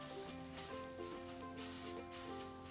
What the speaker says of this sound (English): we are just doing shallow frying with just a little bit oil